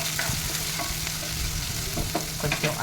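Onions and green chillies frying in a pan for a Bapatla-style stuffed brinjal curry, a close, continuous sizzle with scattered stirring scrapes and ticks.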